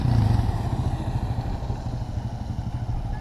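A dirt bike, a 70cc machine, runs steadily and fairly loud with a throbbing, pulsing engine note and some clatter, continuing for the whole stretch without talk.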